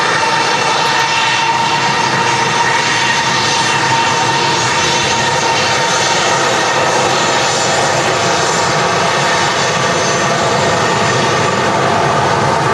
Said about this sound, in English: Dreamliner's kicking up some more engines under.